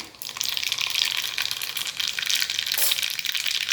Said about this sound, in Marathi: आता गरम तेलामध्ये मी मोहरी घालत आहे सुरुवातीला